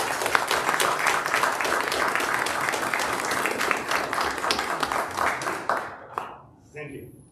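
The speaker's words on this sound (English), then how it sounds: "I just want to give all three one more round of applause" People at a city council meeting in Algona, Washington applaud three police officers, steady close clapping that fades out near the end, followed by brief speech.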